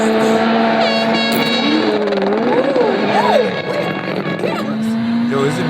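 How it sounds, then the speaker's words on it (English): WRC rally car at Rally Finland revving hard, a loud close engine with rising and falling pitch sweeps over a sustained drone, blending with tyre and crowd noise. "we do love the sound of a proper, equipped, built motor underneath the hood of a fast car"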